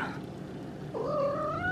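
A pet cat eating its birthday meal gives one close, drawn-out meow that rises and holds, after a quiet stretch of low room noise.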